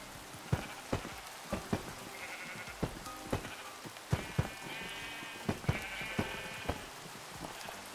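Several sheep bleat in overlapping calls over a steady patter of rain in Minecraft, with scattered sharp drip-like taps throughout.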